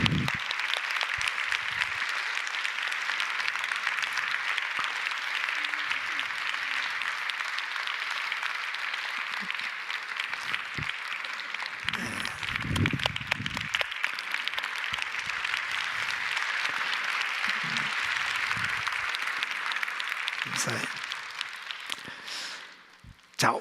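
A church congregation at a Sunday worship service applauds steadily for over twenty seconds, a dense, even roar of many hands that fades near the end, with a few brief voices breaking through.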